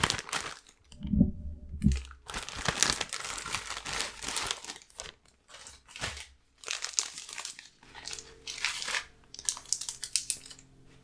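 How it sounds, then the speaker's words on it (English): A plastic bag holding an elderberry syrup kit is pulled open and rummaged through, giving close, loud crinkling and rustling bursts that keep going for several seconds with short pauses between them. "open up the bag"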